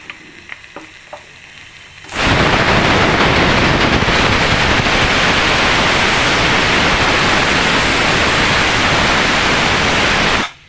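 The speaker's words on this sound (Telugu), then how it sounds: "రెండు విజిల్ వచ్చినా ఆఫ్ చేసాను" A pressure cooker lets out a loud, close, sustained rush of steam for about eight seconds, starting abruptly after a quiet moment with a few light knocks and cutting off sharply.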